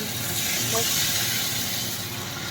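Water poured into a hot pan of frying fish for a thin Bengali fish curry gives a steady, even hiss and sizzle that runs throughout, with a faint background murmur.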